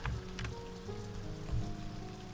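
Steady rain falls in the video game Stonehearth, a continuous soft patter on surfaces with faint music-like tones underneath, moderately loud and even throughout without any speech.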